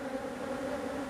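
Honey bees swarm around a hive frame with freshly built comb, a close, steady droning buzz with a constant hum and no voices.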